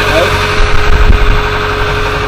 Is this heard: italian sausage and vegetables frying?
no